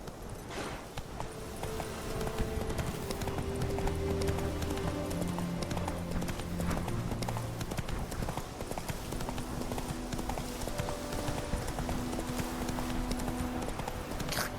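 The horse Roach gallops in The Witcher 3, with rapid, steady hoofbeats sounding loud and continuous throughout while music plays underneath.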